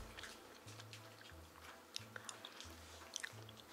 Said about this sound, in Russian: Наверное, я в первый раз ем такую кашу